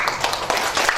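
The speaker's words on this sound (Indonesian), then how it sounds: "kasih aplaus untuk Pak" Applause from an audience at a public discussion on controlling regional inflation in Majalengka, a brief steady burst of clapping filling the room.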